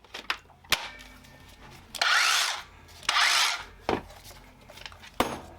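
A brushless DEWALT DCH293B SDS Plus rotary hammer drill, used for chipping out old tile, runs in two loud sustained bursts, with sharp clicks and short knocks between them, close up and with no talking.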